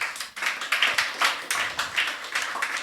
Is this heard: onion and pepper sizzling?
no